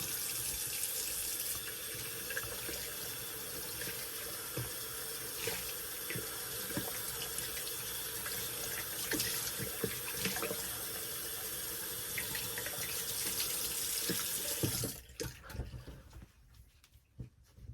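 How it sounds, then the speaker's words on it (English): Tap water runs steadily into a sink while a razor is rinsed during a wet shave, a continuous close splashing stream that cuts off near the end, leaving faint drips. "So rinse that off real quick."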